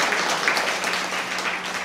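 An audience at a Tamil comedy speech applauds in a dense, steady wash of many hands clapping together, loud and continuous throughout with no gaps.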